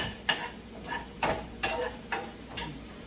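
A spoon stirring a pot of stewed beef and onions cooking with garlic and celery. About six rhythmic scraping strokes come roughly every half second over a soft background sizzle, close and moderately loud.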